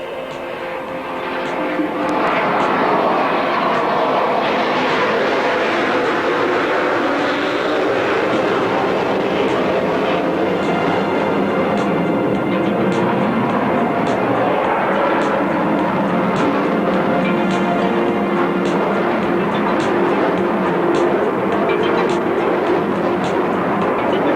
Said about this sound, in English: Notice the extremely slow flying characteristics of the airplane.